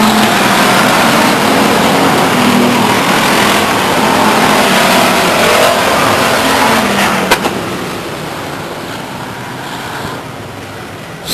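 Stock car engine roaring at Stockton 99 Speedway in 2000 as cars race into turn 1, a loud sustained engine drone with traffic-like rumble that eases slightly toward the end.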